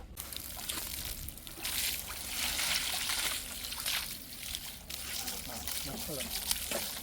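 Water is poured onto a homemade compost pile of kitchen scraps and yard waste, giving a steady, fairly close splashing and trickling wash that swells and eases in waves throughout.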